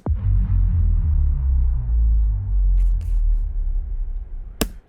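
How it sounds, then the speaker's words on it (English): A deep, booming bass impact in a music production transition that rumbles and slowly decays over several seconds, ending with a couple of short sharp ticks. "the fallers, the kind of like bass impact sounds here at the beginning of the transition"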